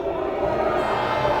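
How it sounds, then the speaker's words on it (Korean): A dense outdoor rally crowd from Jeolla-do shouts a sustained cheer, loud and continuous, with a mass of voices roaring together and no break. "전라도에서 오신 분들 함성 한번 질러주세요"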